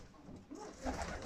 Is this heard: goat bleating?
no